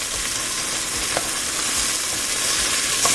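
Onions and garlic frying in a pan for pork and beans make a loud, even sizzle with faint stirring scrapes beneath it.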